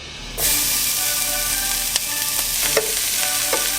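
Sisig sizzles loudly and steadily in a hot pan, with a few scraping stirs and clicks over the constant hiss.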